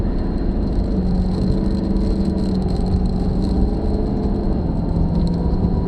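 A 2019 Ford F-250 truck in two-wheel drive accelerating hard from 0 to 60, its engine a loud, steady roar heard from inside the cab, with the pitch climbing and dropping through gear changes and no speech.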